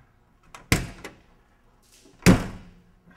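A door on the Retroliner, a custom-built vehicle with a rubber seal and stainless trim, thuds shut twice, with a sharp closing bang near 0.7 s and a louder one near 2.3 s, in a quiet space.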